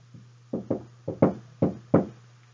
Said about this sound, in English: That was me knocking on a door, right?